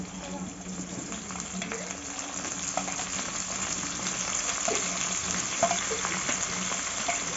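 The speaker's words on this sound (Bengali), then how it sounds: "আলু আর কপি একসাথেই ভাজবো" Potatoes and blanched cauliflower fry together in oil with cumin, producing a steady close sizzle with small crackles and faint stirring sounds.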